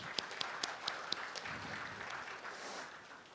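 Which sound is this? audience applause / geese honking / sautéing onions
audience applause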